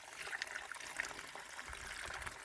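Water is poured into the tank of a crop sprayer pump used on soybeans, a faint, continuous trickle and splash heard close by with no talking.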